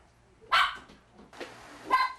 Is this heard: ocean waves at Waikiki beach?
no